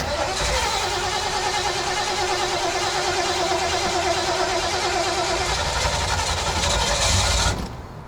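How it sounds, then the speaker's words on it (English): An old truck engine cranks and runs with a rough, steady mid-pitched drone that holds for about seven seconds before cutting off abruptly near the end. "Assuming the old truck makes it."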